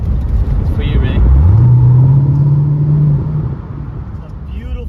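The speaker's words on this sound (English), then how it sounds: "This car, honestly, without its exhaust, guys, it sounds so nice." A loud, close 2006 Corvette C6 engine running without its exhaust rumbles with a deep, steady tone, rising briefly in pitch before settling back into a low idle.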